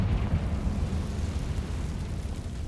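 A Confringo fire-blast spell in Hogwarts Legacy erupts as a loud, sustained rumbling burst with heavy low roar that holds steady for a couple of seconds.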